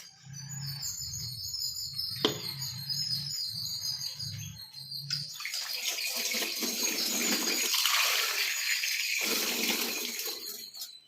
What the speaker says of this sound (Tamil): இதில் கொஞ்சம் தண்ணி ஊற்றி வச்சிடலாம்